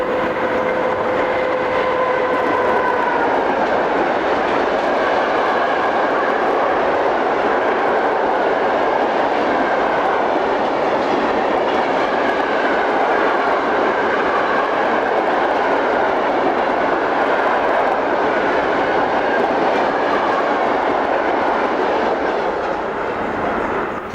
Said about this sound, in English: we see BB12100 heading a train of empty hoppers towards Somain.